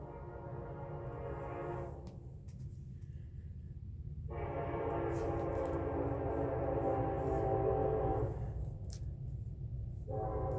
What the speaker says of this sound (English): Just love to hear that train.